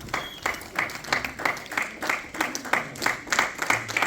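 A Congolese community audience in the UK applauds the Congolese ambassador, rhythmic unison clapping in roughly even beats, close and fairly loud, continuing for several seconds without talk.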